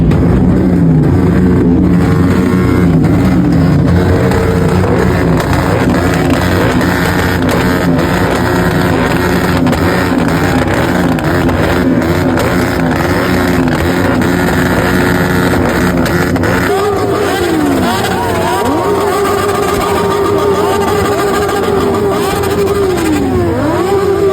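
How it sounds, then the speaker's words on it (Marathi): Motorbikes revving at the India Bike Week venue, several engines droning and wailing together loud and continuous, with repeated rising and falling revs layered over a constant roar. "इथं एकापेक्षा एक गाड्या जे वाजवायला चालू केल्या जातात"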